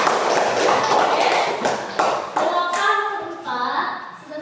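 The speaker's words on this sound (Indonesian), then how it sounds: "Oke, tepuk tangan." Pupils in a classroom clap their hands together during a maths lesson, a dense patter of claps lasting several seconds and gradually thinning out, with a few voices mixed in near the end.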